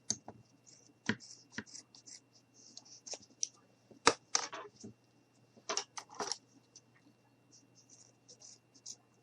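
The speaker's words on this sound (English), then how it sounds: "We're going to hold this like this, and we're going to go ahead and cut here." Scissors snip through craft material for a gnome-on-a-sled decoration: a handful of sharp, close clicks and cuts spaced unevenly, with quiet talk in between.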